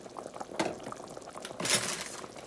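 Ingredients for chicken noodle soup are tipped into a pot, giving two soft splashing pours of liquid, a short one and then a slightly fuller one, fairly quiet and close.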